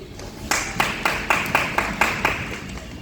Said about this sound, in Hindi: तो जोरदार तालियों से स्वागत